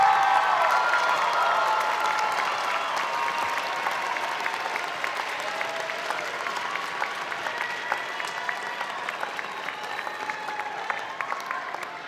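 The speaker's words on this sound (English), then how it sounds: "Would all the graduates please stand up, turn around, and applaud your family members and friends who are here today?" Commencement graduates stand and applaud their family and friends, a large crowd's sustained, dense clapping that fills the hall for over ten seconds, slowly easing toward the end.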